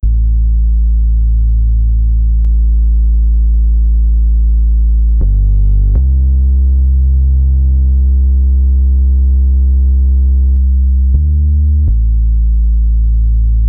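A deep, sustained sub bass drones in long notes, switching between a clean, pure tone and a buzzier tube-saturated version with added upper harmonics.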